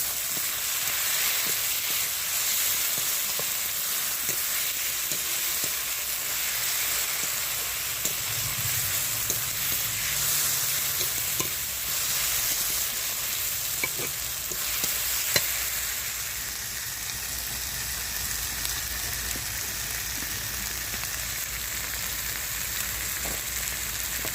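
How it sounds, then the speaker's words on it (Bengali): Tomatoes frying with salt in a pan for a potato chicken curry, giving a steady, close sizzle throughout with a few faint stirring clicks and no talking. "টমেটোটা খোলার জন্য আমি স্বাদ মতো একটু নুন দেবো"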